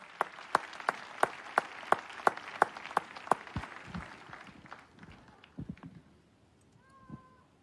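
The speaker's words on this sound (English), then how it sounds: "Let's clap for Jesus" A church congregation claps for Jesus: a crisp, evenly spaced run of about ten sharp claps, which then thins into scattered softer taps and shuffling before fading out.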